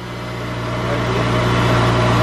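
A rebuilt Honda S2000 engine runs at a steady, close idle with an even mechanical hum that swells slightly over the couple of seconds, and no voices.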